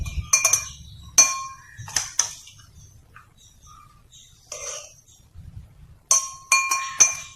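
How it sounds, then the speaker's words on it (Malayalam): Chopped fruit is added to a falooda glass, making bright glassy clinks in quick clusters. Short taps are separated by brief quiet gaps, with a final burst of several clinks close by. "നമ്മൾ നുറുക്കി വെച്ചിട്ടുള്ള ഫ്രൂട്ട്സ് ചേർക്കുകയാണ്."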